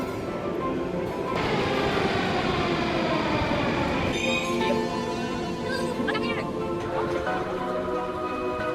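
Moscow metro train rumbling through an underground station, a steady loud roar of wheels and motor with rising whine tones and brief squeals, under a background of voices.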